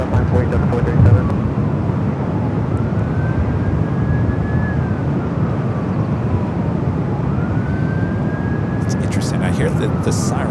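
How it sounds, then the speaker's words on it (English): Emergency vehicle sirens at Los Angeles International Airport in gusty winds, a distant wailing siren that slowly sweeps up and down under steady wind and engine roar, with brief radio chatter near the end. "I hear the sirens, but we did not have an alert, which usually signals a emergency."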